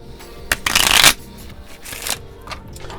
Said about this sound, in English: I'm only shuffling you.